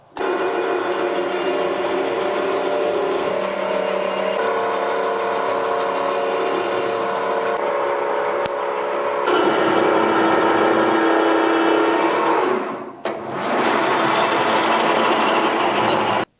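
A ZAY7045V milling machine cuts 1/2 inch threads with a loud, steady mechanical drone and whine. The pitch shifts partway through, and near the end the sound briefly dips and then resumes.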